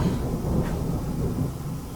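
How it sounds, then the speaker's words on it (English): Distant thunder rolls as a low, continuous rumble, steady and moderately loud throughout, with no voices. "yeah, thunder in the distance"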